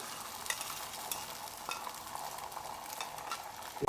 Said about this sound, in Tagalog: pag mainit na yung ating mantika, pwede na natin ilagay yung ating itlog